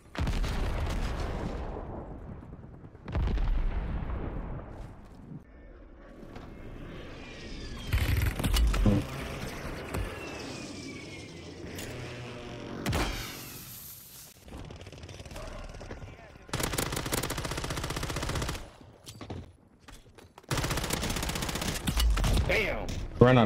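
Bursts of gunfire from the Call of Duty Warzone video game on Rebirth Island, coming in loud clustered volleys separated by short quieter gaps, with a player talking in between.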